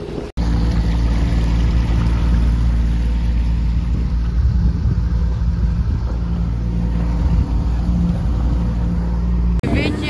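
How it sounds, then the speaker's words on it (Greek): Motorboat running steadily on the water off Lefkada in July, a loud continuous engine drone with hull and water noise throughout, close to the mic and dominating the scene. "Οδηγάει τη βάρκα"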